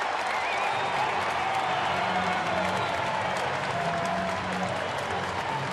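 A bleacher crowd at a Cubs home baseball game cheers and applauds after a run-scoring base hit, a dense, continuous roar of clapping and voices heard from within the stands.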